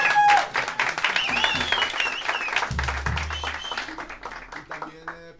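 A crowd applauds a maker of traditional transverse flutes from Cauca, with lively clapping and voices mixed in that thin out toward the end.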